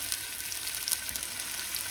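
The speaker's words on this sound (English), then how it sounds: "We're going to fry the meatballs now" Steady, close sizzling of meatballs frying in hot oil, an even crackling hiss with no talking.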